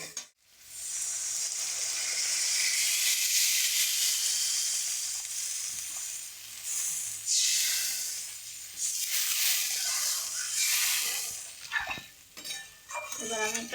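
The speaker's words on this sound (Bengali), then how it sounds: "এবার আমি পরিমাণ মতো জল দিয়ে দেবো সেদ্ধ হওয়ার জন্য।" Water poured into a hot pan of rohu fish curry with papaya, setting off a loud close hiss and sizzle that swells and fades, with stirring and clinks of a utensil against the pan.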